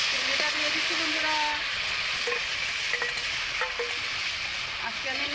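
Prawns hit hot oil in a pan for a poppy-seed shapla prawn curry, giving a steady, loud broadband sizzle that runs throughout, with faint voice-like tones drifting in the background.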